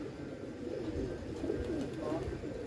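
Pigeons cooing on a rooftop, soft repeated low coos blending into a continuous murmur with faint outdoor background noise.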